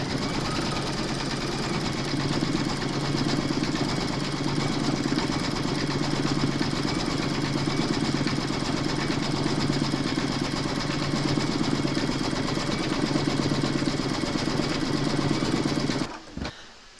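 An embroidery machine stitching the detail on the soles of a large koala applique design, a loud, steady mechanical hum with a fast rhythmic chatter that runs continuously before stopping abruptly near the end.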